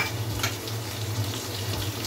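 Onion, tomato, grated ginger and garlic fry in a pan with a continuous close sizzle, soft stirring and a low steady hum underneath.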